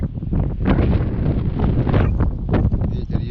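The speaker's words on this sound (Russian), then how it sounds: "Ветер, ветер." Steady wind gusts buffet the microphone beside a taiga lake in spring, a constant broadband rush that swells and dips over a few seconds, with no one speaking.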